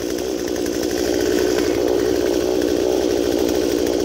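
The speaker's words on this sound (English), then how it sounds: "About 38 inches across on the 18 inch saw." An 18 inch chainsaw cuts through a huge oak trunk about 38 inches across. It runs loud and close at steady high revs for the whole stretch, with no pause and no voices.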